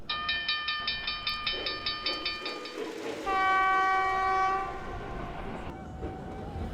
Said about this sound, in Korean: 증기 소리가 칙칙. 기차 바퀴가 덜컹덜컹.